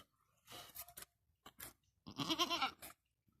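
A village goat bleats several times in short, quavering calls, near and fairly clear, with quiet gaps and faint rustling between the cries.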